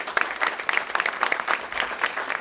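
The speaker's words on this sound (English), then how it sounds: "So let's give them a round of applause here." Audience applause at a Louisville Catholic Charities Common Table event, a steady patter of many hands clapping at moderate distance, continuous and fairly dense with no talking over it.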